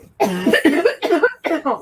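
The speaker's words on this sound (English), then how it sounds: "I don't know why she's coughing" A run of loud, close coughs in quick bursts, three or four harsh fits back to back.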